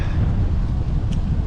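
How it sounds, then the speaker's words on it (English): Gusty wind buffets the microphone on a blustery day along the East Coast Greenway in Savannah, a steady low roar with no voices. "But this windy, blustery day"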